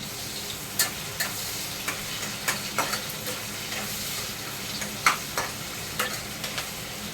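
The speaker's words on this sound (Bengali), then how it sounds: "আমার কড়াতে তেলটা গরম হয়ে গেছে। এবার আমি পেঁয়াজগুলো দিয়ে দেবো প্রথমে।" Onions frying in hot oil in a wok for a Bengali rohu fish curry, a constant close sizzle broken by scattered sharp clicks of stirring.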